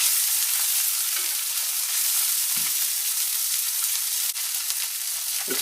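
Kippers frying skin side down in a hot pan, a steady bright sizzle and crackle filling the whole stretch, close and loud with a couple of soft knocks and no talking.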